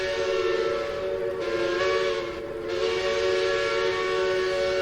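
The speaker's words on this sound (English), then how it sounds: "I like the sound of the whistle." A loud, sustained steam locomotive whistle in the video game Century of Steam blows with a steady chord-like tone, briefly dipping twice before continuing strongly.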